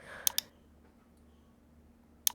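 Two quick mouse clicks on OK buttons in Outlook near the start, then quiet low room hum, with another pair of sharp clicks at the very end.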